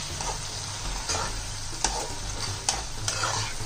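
Vegetables for chilli paneer fry over high flame, an even close sizzle broken by a few distinct spoon scrapes and knocks against the pan, with a faint low hum beneath and no talking.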